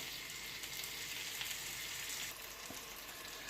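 Chicken and chorizo sizzle steadily in a hot pan as they fry crisp, a close, continuous hiss that drops slightly in level partway through.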